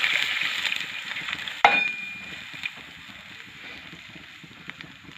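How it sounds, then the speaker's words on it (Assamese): Milk is poured into hot caramelized sugar for rice kheer. A sudden hiss and splash breaks into a steady sizzle, which then settles to a quieter bubbling simmer. "এতিয়া মই ইয়াত গাখীৰখিনি দি দিম।"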